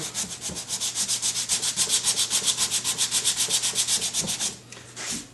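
Sandpaper rubs back and forth over a car body seam during paint prep, a close, brisk rhythmic scratching of about thirty even strokes that pauses briefly before a final stroke.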